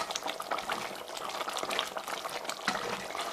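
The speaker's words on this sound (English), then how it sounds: "I'm going to leave this to boil for 3 minutes" Chilli con carne sauce boiling in a pan, a dense continuous bubbling and popping with a steady, moderately loud texture throughout.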